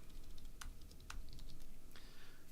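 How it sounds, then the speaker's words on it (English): Typing on a computer keyboard: a handful of sparse, crisp key clicks scattered over a quiet, steady background hum, close and fairly faint. "let's just get typing"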